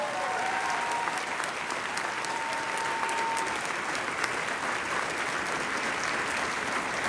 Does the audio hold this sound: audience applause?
yes